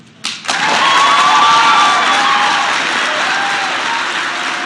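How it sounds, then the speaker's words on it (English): A crowd at a police news conference announcing the BTK killer's arrest breaks into loud cheering and applause, rising suddenly after a brief quiet and then holding as a sustained roar with whistles and shouts. "A cheer went up in the crowd"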